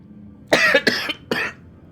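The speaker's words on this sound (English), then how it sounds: "Coughing is so much fun." A person coughs three times in quick succession, close and fairly loud, the first two bursts running together before a short pause and a final cough.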